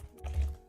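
A short patter of clicks on a computer keyboard during a Minecraft datapack session, quiet and close, a few quick keystrokes in under a second.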